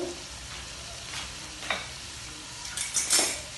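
Onions sautéing over a low flame for mutton karahi, a soft, continuous sizzle in the pan broken by a few scraping stirs of a utensil.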